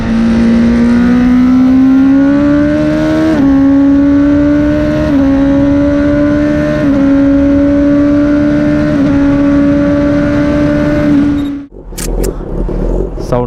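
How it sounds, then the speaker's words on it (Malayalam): A loud Honda CBR1000RR motorcycle engine revs hard and climbs through several gear shifts for about eleven seconds, then suddenly drops away. "സൗണ്ട് എക്സോസ് ഇത് മാരകമാണ്."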